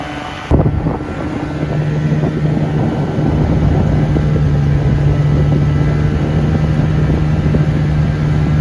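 A 1973 Evinrude 25 hp outboard motor on a raft on the Housatonic River starts with an abrupt onset, then runs at light throttle as a loud steady drone with a constant hum, buffeted by wind noise.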